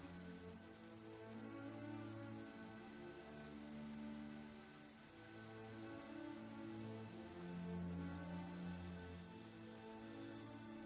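Steady downpour in the video game Genshin Impact, a soft continuous patter of rain on surfaces heard quietly throughout, with low tonal game music humming underneath and no voices.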